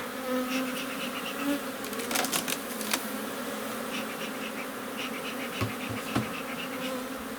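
Honeybees buzz steadily and close by at an opened hive, a dense droning hum with individual bees passing near now and then.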